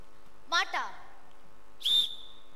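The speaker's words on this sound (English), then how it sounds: "I can never answer to a whistle." A shrill whistle blown in short sharp blasts during a school stage production of The Sound of Music, two quick chirps followed by a longer steady blast in a quiet hall.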